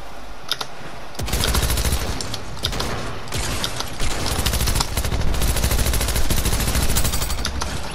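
Rapid automatic gunfire in the Counter-Strike video game, loud and close, with sustained dense bursts that start after a brief quieter opening and continue almost without pause.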